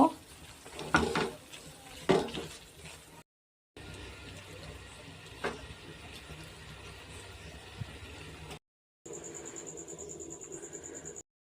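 Thickened milk, ground almonds and sugar are stirred in a pan for almond laddu, giving soft scraping and light sizzling up close, with a few louder knocks early on and short silent breaks between sections.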